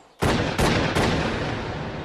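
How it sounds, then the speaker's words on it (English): Three loud, sharp shots from an automatic pistol fired in quick succession, each a sudden broadband crack with a ringing tail that blends into the next. "I heard 3 shots."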